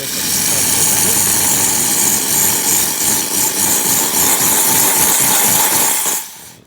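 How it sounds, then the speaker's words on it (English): A loud, continuous mechanical hiss and hum from a Saeco espresso machine producing steam after a full tune-up, holding steady for several seconds before cutting off abruptly. "making coffee, making water, making steam"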